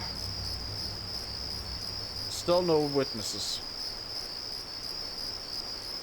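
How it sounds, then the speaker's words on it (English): Crickets in the video game Deus Ex chirp loudly and steadily in a continuous high-pitched drone that runs the whole time, with a short burst of spoken voice partway through. "holy fuck, the crickets are loud"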